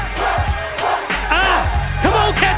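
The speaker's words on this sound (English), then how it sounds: "The crowd's going bananas." Loud rap battle crowd in the film 8 Mile roars and shouts continuously, with overlapping yells and whoops rising in waves across the short stretch.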